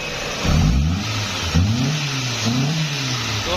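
Hyundai Santro Xing car engine revving, a near mid-pitched engine that surges up sharply twice, then settles into rising and falling revs over a steady idle, with no talk.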